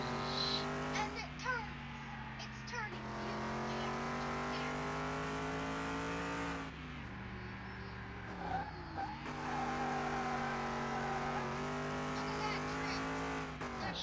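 Tires squeal and the engine drones as a car slides through a long drift in a video game. The screech is sustained and loud, with a brief break partway through.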